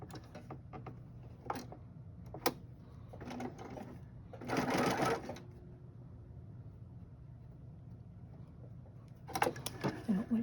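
A sewing machine stitches a dark quilt-block fabric piece down in a few short bursts of rapid mechanical whirring, with a longer run in the middle and another at the end, close and fairly loud over faint room noise.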